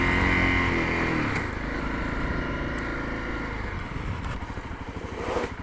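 A Honda CRF250L motorcycle ridden off road: the engine drones steadily, then shifts into a rougher, pulsing rhythm as the throttle changes. The sound is fairly close throughout, with a few brief knocks and a louder burst near the end.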